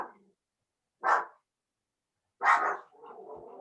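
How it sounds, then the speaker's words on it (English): Dogs give two or three short, fairly close barks separated by pauses, with a brief quieter yelp or whine after the last one; no speech. "Sorry about the dogs."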